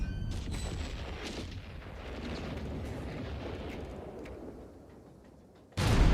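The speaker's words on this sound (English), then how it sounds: "We'll just let it fire automatically, just so you get an idea of how quickly an obice normally fires." An obice artillery piece in a video game fires on its own, heavy booming blasts rolling one into another with a long rumbling decay, then a sharp new blast at the end; no one talks.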